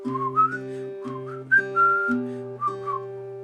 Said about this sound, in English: so you're whistling the tune